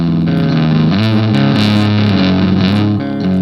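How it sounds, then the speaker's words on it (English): An electric guitar plays through a GarageBand fuzz distortion preset, thick buzzing chords ringing out loud and close. "if I want to add some fuzz"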